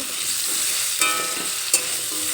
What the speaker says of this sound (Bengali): হাই ফ্লেমে পেঁপে ভেজে নেব